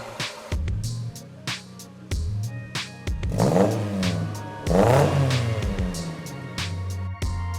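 A car exhaust with a straight-through muffler revs repeatedly, loud and close, its raspy note rising and falling in short bursts.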